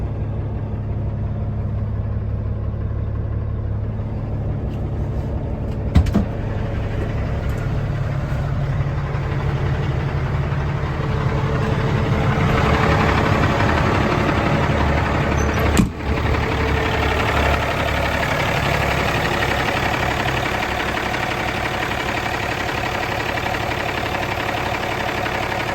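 2008 Peterbilt 388 flattop truck with 155,000 miles idling, a steady deep diesel rumble with light knocking, plus a couple of brief clicks partway through.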